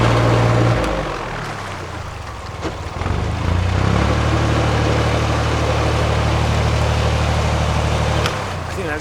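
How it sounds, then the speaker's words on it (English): A narrowboat diesel engine thrown into reverse thrust, a loud steady low rumble that steps up in pitch and holds, heard close on board and alone. "I'll do some reverse thrust."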